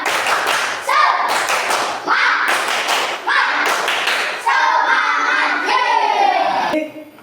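An Indonesian classroom of children claps a rhythmic spirit cheer in repeated bursts of patterned hand claps, with young voices chanting along. The claps fade out at the end.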